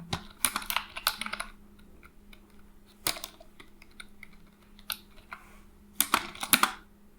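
Quick bursts of typing on a computer keyboard during network configuration work, soft and close, clustered near the start, again mid-way and in a busier flurry toward the end, with no talk.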